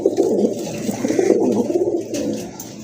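Domestic pigeons, including a rare pearl-eyed hen, coo close by in a continuous, low, rolling murmur of overlapping calls at a pigeon sale, with no talking.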